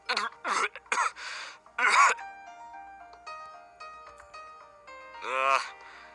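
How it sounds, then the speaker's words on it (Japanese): Several rough coughs and throat-clearing bursts from a character in the PSP game Joker no Kuni, in quick succession, followed by a pause with faint tones, then one more harsh throat-clearing sound. "最近よく咳込む。"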